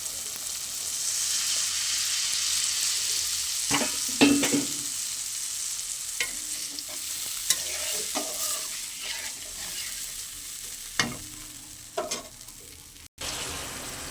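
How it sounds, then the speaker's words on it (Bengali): A spice paste, cooked until the oil separates, sizzles steadily in a pan for a fish curry as water goes in, with scattered spoon scrapes and knocks over the frying hiss and no talking. "এবার পরিমাণ মতো জল দিয়ে দেবো।"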